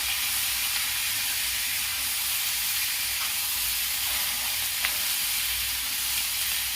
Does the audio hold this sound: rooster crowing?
no